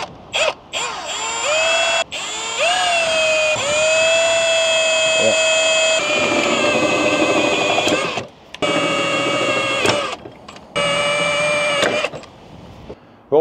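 A power drill whines in bursts, its pitch rising as it bites into a steel plate, stopping and restarting several times with brief pauses between.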